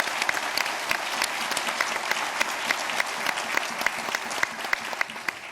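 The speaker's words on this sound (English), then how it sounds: "they deserve some applause for that" An audience at a town forum in Charleston, West Virginia applauds law enforcement, a dense steady clapping crowd with sharp individual claps standing out throughout.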